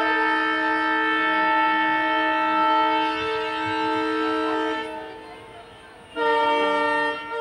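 A train horn sounds long and loud at Dharmanagar railway station in Tripura, holding a steady tone for several seconds, briefly dropping away, then blasting again near the end.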